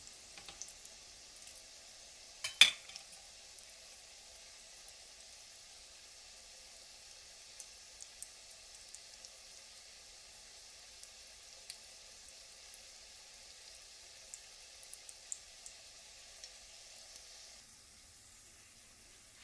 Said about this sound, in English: here we are frying our bread pies